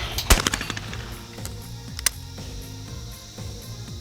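A shotgun fires once at a skeet clay target outdoors: one sharp, fairly distant crack with scattered echoing pops, followed by a fainter report and low background noise.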